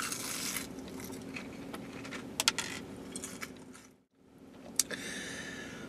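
Crunchy bites and chewing of Long John Silver's fried shrimp, close and fairly quiet, with a few sharp crackly bites over a low room hum and a brief silent gap near the end.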